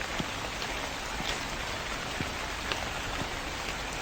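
Steady, dense rain in a video game pours down with occasional louder drops tapping a surface, a constant wash of hiss with no voices.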